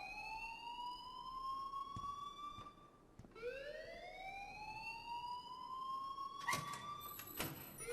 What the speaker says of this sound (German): es ist Feueralarm